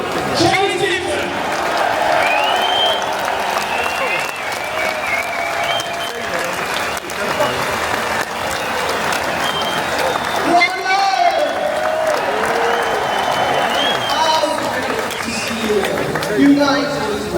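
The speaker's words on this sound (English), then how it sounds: "a massive cheer around the applause" Crowd at a political rally applauding and cheering, a loud continuous roar of clapping with whoops and shouts rising and falling, voices and chatter mixed throughout.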